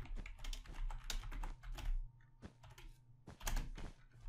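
Someone types quickly on a computer keyboard to chat during a Minecraft Bed Wars game, a close, quiet run of irregular clicky keystrokes with brief pauses and no speech.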